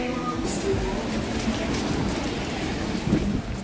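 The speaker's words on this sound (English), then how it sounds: "Walk in the rain?" Rain falls steadily outdoors, a constant soft patter. A few faint voices sound underneath.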